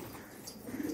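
Pigeons coo softly outdoors during a bird-trapping session, a brief low cooing rising near the end over faint background noise.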